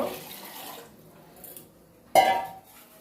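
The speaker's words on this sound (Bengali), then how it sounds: "অল্প একটু জল দিব" Water poured from a vessel onto kabuli chana in a cooking pot, a soft brief splash and trickle with faint pot clinks, close and quiet.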